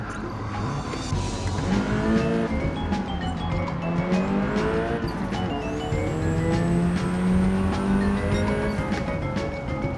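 A Porsche 992 Turbo S in Gran Turismo 7 revs and shifts with a loud, steady engine howl rising and falling through the gears, and brief tire squeal mixes in.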